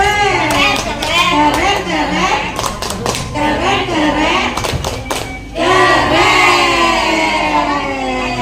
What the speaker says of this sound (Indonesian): Ayo kita tepuk keren dulu buat Bu Yani